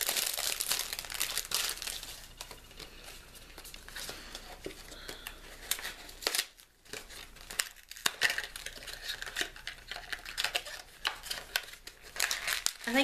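Packaging of a lip balm gift set being opened, with steady crinkling and tearing of wrapper and card stock, close and moderately loud, pausing briefly partway through before more rustling resumes.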